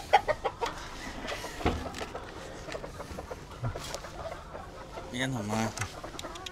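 Six hens on a gamefowl breeding farm give scattered clucks at close range, some sharp and some soft, while people talk among them.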